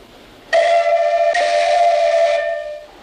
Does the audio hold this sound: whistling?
yes